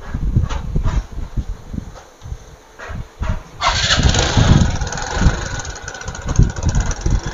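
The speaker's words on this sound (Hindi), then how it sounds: "चलो बाइक को हम स्टार्ट करते हैं।" A TVS Phoenix motorcycle, serviced for an oil pump fault that kept oil from the cylinder head, starts after a few cranking pulses and settles into a loud, close, busy idle.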